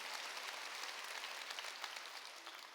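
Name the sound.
audience clapping in church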